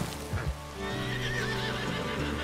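A horse in Red Dead Redemption 2 lets out a loud, wavering whinny after a couple of hoof thuds, close and clear over a low game-world background.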